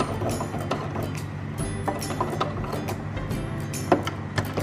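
A sewing machine stitches diagonally across a strip of webbing, giving a steady close mechanical hum with light rhythmic clicking and a few sharper ticks. No one speaks.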